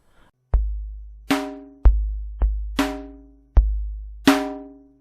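Synthesized snare drum hits from a Nord Drum 1, six sharp separate strikes with ringing tonal decays, loud and alone, spaced irregularly over a few seconds.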